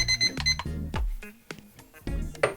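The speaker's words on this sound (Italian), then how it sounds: "Il timer da 15 minuti, il primo, sta scadendo" A 15-minute kitchen timer on an Effeuno P134HA oven rings with a short series of bright, tonal beeps, loud and close, with clattery handling noises in between.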